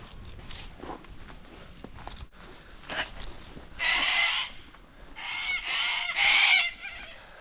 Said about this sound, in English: Cockatoos everywhere.